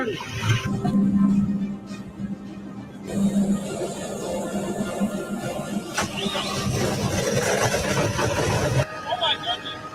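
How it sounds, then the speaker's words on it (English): A 1928 engine fired up and running on diesel made from plastic, a steady mid-pitched mechanical drone with starting bursts, loud and close, with people talking over it. "Right now, we just got the engine started."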